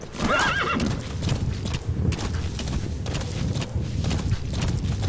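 In a Metal Gear Solid V video game, a horse whinnies loudly at the start, followed by steady hoofbeats clip-clopping along with some creaking and thuds in the background.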